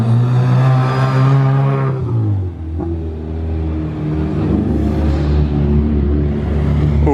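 A yellow Porsche GT3 revs hard on a racing circuit, its loud engine note climbing and then dropping away with a brief dip, followed by a sustained rumbling drone close by.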